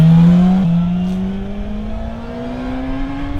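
A loud motorcycle engine roars close by, its pitch sliding upward as it passes and pulls away, then a steady rising drone continues.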